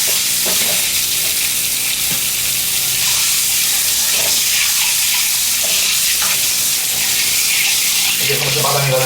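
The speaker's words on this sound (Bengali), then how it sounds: "ডিমগুলো ভাজা হয়ে গেছে এবং বাদামি বাদামি একটু ফাঁস হয়ে গেলেই দেখতে পাচ্ছেন" Eggs frying in oil for a Bangladeshi egg and eggplant dish, a steady loud sizzle with occasional clinks running throughout, no talking over it.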